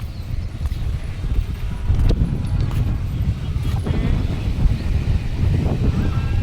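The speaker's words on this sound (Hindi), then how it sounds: "अच्छी ठंडी हवा चल रही है, अच्छी मस्त।" A cool breeze blowing outdoors, rumbling steadily against the microphone as a loud, continuous gusty wash with faint clatter behind it.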